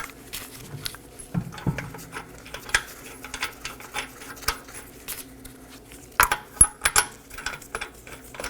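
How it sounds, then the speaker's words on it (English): Lug nuts threaded by hand onto the wheel of a Nissan Maxima during a rear wheel bearing and hub job, giving scattered light metallic clinks and taps, some closer rattles toward the end, with no talk. "Now I'm going to hand thread on my 5 21mm lug nuts."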